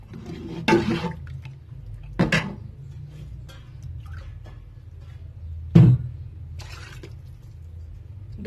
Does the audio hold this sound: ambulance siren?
no